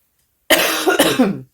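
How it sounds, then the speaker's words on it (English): A woman coughs loudly and close up, a short burst of two or three harsh coughs after silence. "In case you can't handle somebody coughing"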